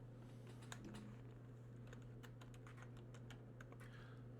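Quick, irregular clicks of a computer keyboard being typed on, moderately close, over a steady low electrical hum, with no talking.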